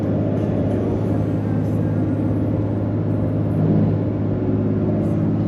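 A pickup truck engine drones steadily as it drives beneath old stone viaducts, a low, even rumble at moderate volume with no talk over it.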